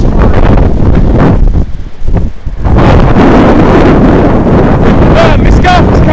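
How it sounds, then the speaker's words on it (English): Strong wind gusts roar and buffet the microphone on the Whitby coast after a June storm, a loud continuous rush that briefly drops in a lull before surging back. "It is windy."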